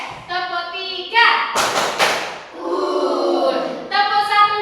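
Schoolchildren in a classroom chant together and clap in a quick rhythmic pattern, with sharp bursts of group clapping between sung, chanted phrases, close and loud.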